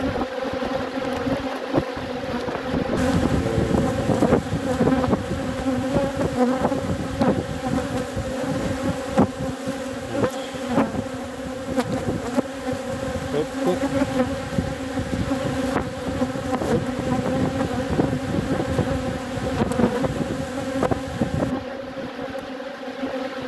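A swarm of bees drones and buzzes continuously, dense and close, with individual insects passing near and a faint wind underneath.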